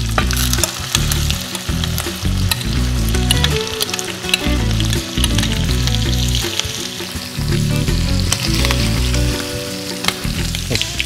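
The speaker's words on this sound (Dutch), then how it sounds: "Die moet echt die foie even bakken." Foie gras fries in a hot pan of well-browned butter, giving a loud, steady, crackling sizzle with bursts of spitting and occasional stirring clatter, with no talk over it.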